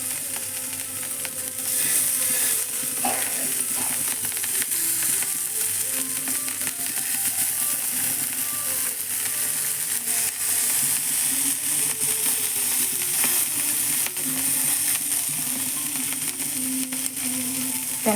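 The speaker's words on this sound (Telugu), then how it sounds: "నేనైతే అట్ల పెనం మీద ఫ్రై చేస్తున్నాను" Cleaned gurukula fish frying in oil on a flat pan, a continuous close hiss and sizzle that holds steady throughout, with faint occasional clinks and no talking.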